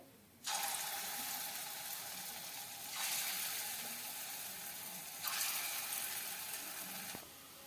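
Red lentil fritters (bora) frying in hot oil, a steady loud sizzle that swells in waves as batter drops into the pan, with no talking.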